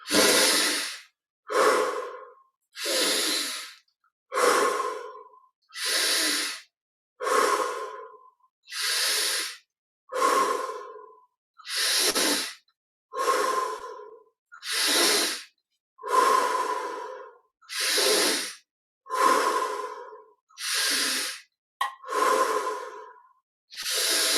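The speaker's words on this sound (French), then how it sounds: "20 respirations profondes, inspire par le nez, expire par la bouche" Slow deep breathing during guided meditation, inhaling through the nose and exhaling through the mouth, with about a dozen long, airy breaths at a steady, unhurried rhythm, close and alone.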